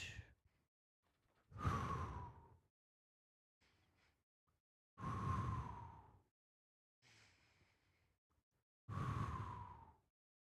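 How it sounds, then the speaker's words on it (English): Three deep, slow breaths in a quiet room, each a long audible inhale and exhale spaced a few seconds apart, close to the microphone with no talk. "Deep breaths."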